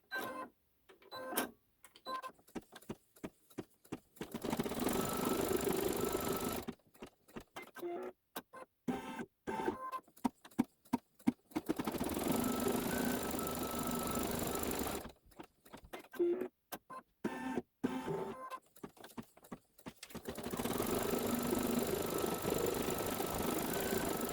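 Sewing machine stitching a quilt block's background fabric, running in long steady whirring bursts separated by bouts of rapid clicking and short pauses, close and moderately quiet.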